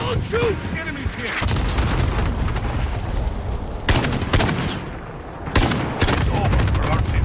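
SKS rifle fire in Call of Duty Modern Warfare: loud, sharp shots and bursts cut through dense battle noise, with a few distinct cracks standing out over the rumble.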